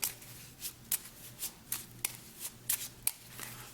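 Playing cards are riffled and bridged in quiet bursts, a series of soft fluttering snaps at an uneven rhythm, close up and faint.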